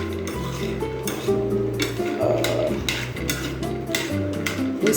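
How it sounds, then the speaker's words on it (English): A woman stirs salted food in a pot, producing scraping and clinking of a utensil against the pot in a steady, close rhythm. "So she is now stirring them in order to distribute the salt evenly."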